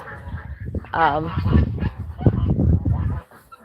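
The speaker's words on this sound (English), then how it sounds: "Let me go find out what that dog is up to." A dog barks and whimpers outdoors at a poultry yard with other animals, rough yips and a rising whine mixed with chatter-like noise, moderately close and uneven over a few seconds.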